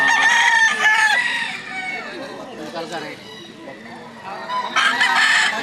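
Gamecocks for sale in Lipa, Batangas crow loudly, with one long crow at the start and another at the end, separated by clucking and people chatting in between.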